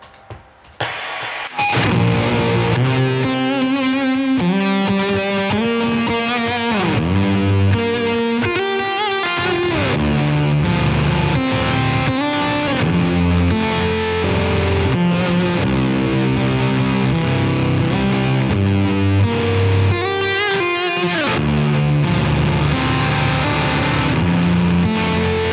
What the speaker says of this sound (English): trying to utilize fuzzes and overdrives in front of gain stages on amplifiers to create just colossal sounds